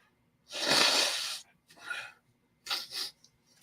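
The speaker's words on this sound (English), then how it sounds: "I have to blow my nose" A long, loud nose blow into a tissue, followed by two shorter, sharper blows, close by.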